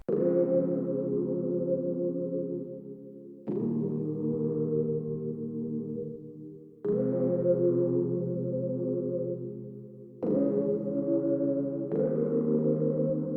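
A slow progression of rich, sustained seventh chords on keys, each held for a few seconds before shifting to the next, played alone without any talking.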